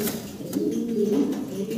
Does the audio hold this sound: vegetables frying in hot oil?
no